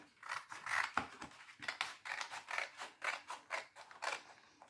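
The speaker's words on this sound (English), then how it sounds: "I'm going to cut this out as well." Scissors snip through glitter-covered paper in a quick, steady run of close, crisp cuts, alone with no talking.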